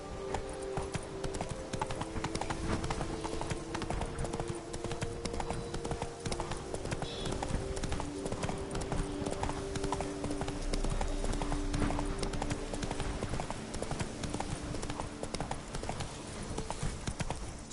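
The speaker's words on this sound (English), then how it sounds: "Giddy up." A horse gallops in The Witcher 3 video game, its hooves clip-clopping in a steady, rapid rhythm throughout, close and continuous.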